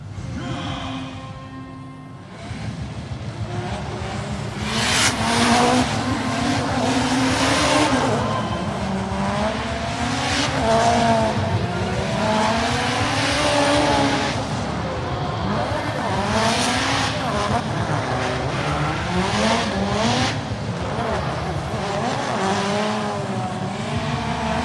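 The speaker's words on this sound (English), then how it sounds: "Here comes our next driver, car number 19, Georgi Chivchan from Russia." A drift car on a qualifying run at the FIA Intercontinental Drifting Cup 2017, its engine revving hard and rising and falling in pitch alongside sustained tyre squeal, loud and continuous, with a commentator talking over it.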